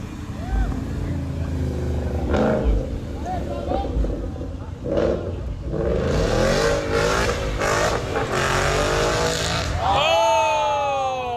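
A car engine revs hard at a Cars and Coffee meet in Knightdale, rising in surges over a steady roar while a crowd talks around it, then a sharp climbing rev near the end.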